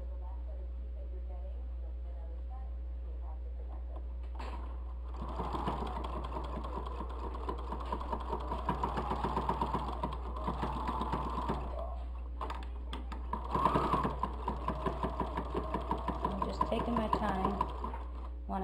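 A sewing machine stitches a seam on a fabric bowl cosy, running in two steady rapid bursts with brief pauses between, while someone talks over the motor's whirr.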